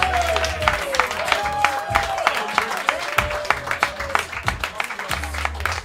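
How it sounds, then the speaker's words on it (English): Audience applause and cheering for a comedy roast battler from Boston at a RoastMasters event, dense clapping with whoops, with a voice talking over it throughout. "Clap it up."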